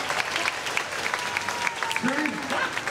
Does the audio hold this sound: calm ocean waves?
no